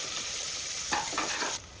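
Onion frying in oil with crushed garlic and pepper, a steady close sizzle with a few stirring scrapes of a spoon in the pan before the sizzle drops away near the end.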